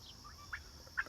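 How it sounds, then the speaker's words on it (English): Two brief gobbling calls from turkeys, fairly distant and faint, over a low outdoor rumble. "that sounds like turkeys"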